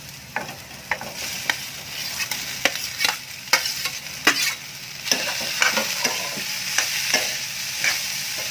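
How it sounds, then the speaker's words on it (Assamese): Boiled potatoes and peanuts fry in oil for a masala dosa filling, with a steady soft sizzle broken by repeated scraping and stirring clicks from a utensil, close and moderately quiet. "এয়া বাদামকেইটা ভাজ খালে এতিয়া মই ইয়াত দি দিম এয়া বইল কৰি লোৱা আলুকেইডোখৰ।"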